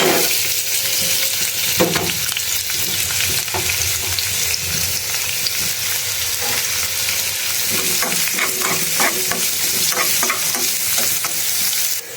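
Garlic paste frying in a pan for a black tilapia fish curry gives a loud, steady sizzle that runs throughout, with a few sharp scrapes of stirring and no talking.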